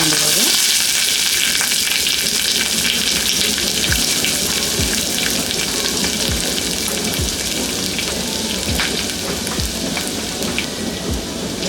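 Dried chillies, curry leaves, onion and garlic sizzle steadily in hot oil on a low flame, a dense continuous frying hiss with occasional crackles and pops throughout, no talking.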